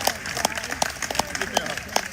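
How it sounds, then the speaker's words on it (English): A small crowd claps for two children at the final White House Thanksgiving turkey pardon, with sparse, uneven claps scattered over a few seconds and people talking over them. "Can everybody give Aaron and Austin a big round of applause?"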